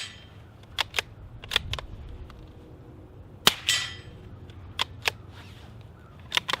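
Suppressed rifle shots through a Dead Air Mask silencer, firing supersonic rounds outdoors, give several sharp, brief cracks spaced irregularly, with one louder report followed by a short tail, over low background noise.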